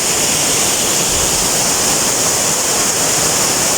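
Gethsemane's hidden falls roar with a loud, constant rush of falling water, steady and close with no pauses.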